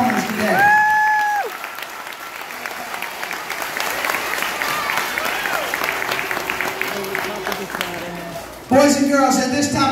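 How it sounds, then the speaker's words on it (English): Applause for performers at a Veterans Day school chorus concert, a broad crackling clatter from the crowd under a voice speaking over a loudspeaker, swelling again loudly near the end. "a big round of applause for all our performers today."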